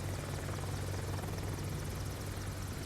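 Steady, loud rotor chop of an AH-64 Apache helicopter in Microsoft Flight Simulator 2024, a continuous heavy low thrum with a buzzing engine whine layered above, constant throughout with no voices.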